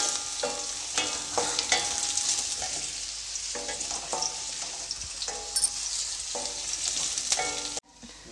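Onions fry in about three tablespoons of oil in a pan, with a constant hiss and sizzle broken by regular scraping and tapping strokes of a spatula, close and fairly loud until it cuts off abruptly.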